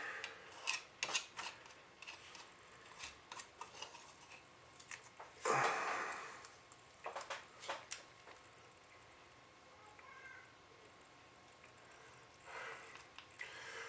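Epoxy being stirred and mixed for an RC car build, heard as faint, irregular scraping and clicking strokes with one louder rasp midway and no talking.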